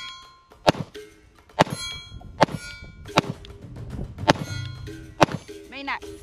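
Pistol shots from a Sig P365 AXG Legion and a Sig P229 Pro Cut strike steel targets, six sharp loud cracks each followed by a bright ringing clang, spaced roughly a second apart, with no talking.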